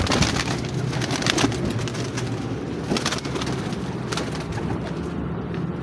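Pigeons coo softly amid a steady, noisy outdoor background, with low repeated calls blending into the ambient hum.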